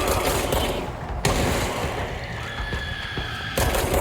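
Gunfire in the video game Control: sustained loud bursts of automatic fire with booming impacts, dense and close throughout, no voices.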